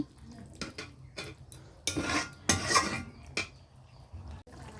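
A spatula clatters and scrapes in a pan while stirring okra with bori lentil dumplings, giving irregular bursts of metallic scraping and soft sizzling up close, with no speech.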